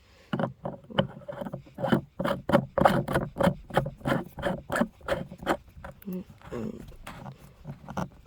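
A 1-inch plastic male threaded electrical adapter is twisted into a female adapter on a plastic trash-can rain barrel, giving a close, rhythmic series of creaking scrapes with each turn.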